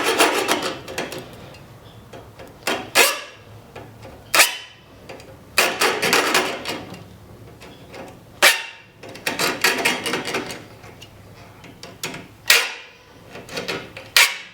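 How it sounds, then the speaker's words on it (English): A cheap, thin hacksaw cuts reclaimed saw mill steel in uneven bursts of harsh, close rasping strokes, some short and some longer, separated by brief quiet gaps. "So I've got a cheap little hacksaw here."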